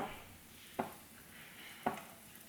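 Raisins roasting in a pan on a low flame give a soft, faint sizzle, with two sharp scrapes of a spoon stirring them about a second apart.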